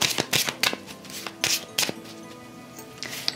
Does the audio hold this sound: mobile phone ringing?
no